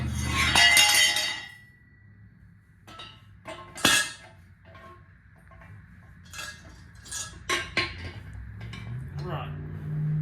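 Metal bolts clink and rattle sharply in short bursts while an engine stand is assembled, with a loud jangle at the start and scattered clicks after, and a voice speaks between them.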